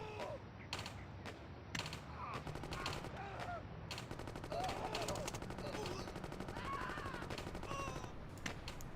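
Gunfire in the game Gangsters 2: Vendetta, rapid machine-gun bursts and scattered single shots crackling repeatedly at moderate volume, with faint game sounds between.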